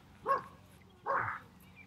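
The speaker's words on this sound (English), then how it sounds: "You may well hear some canine accompaniment." A dog in a dog walking field gives two short barks about a second apart, moderately close and clear against quiet background noise.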